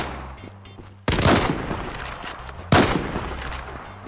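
MAC-10 submachine gun fire in the online shooter Zula, two loud close bursts of rapid shots, each tailing off into echoes.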